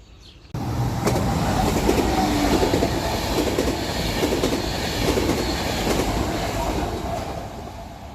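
A train passes a railway level crossing beside a bike path in Austria, its loud, steady rolling rumble and wheel clatter rising abruptly and holding close for several seconds before easing slightly.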